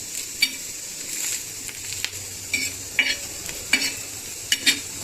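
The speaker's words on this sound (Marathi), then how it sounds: "अशा मिरच्या ह्या पद्धतीने अशा दाबून व्यवस्थित भाजून घेतल्या तर खूप छान भाजून होतात" Green chillies are pressed and roasted in a hot pan, giving a soft steady sizzle broken by sharp crackles and spatula scrapes at irregular moments, close and quiet with no talk.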